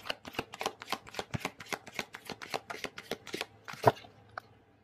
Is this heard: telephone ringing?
no